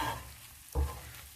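Prawns and egg frying in a pan as they are stirred, giving a soft steady sizzle with one brief louder scrape or clatter near the middle of the short stretch.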